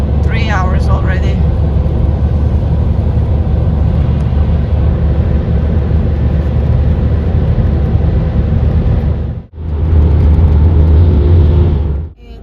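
Car interior on a road trip through several countries, with a steady low engine and road drone that cuts out briefly near the end and returns, while people talk over it.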